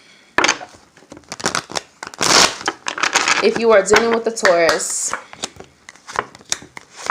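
Quick riffling and flicking of tarot cards being shuffled in short bursts, interleaved with a person talking.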